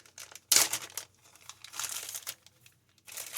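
Paper envelopes from an unboxing are handled up close, with crisp crinkling and rustling in short bursts, one sharp loud crackle near the start, and softer shuffling after it, quiet and with no voice.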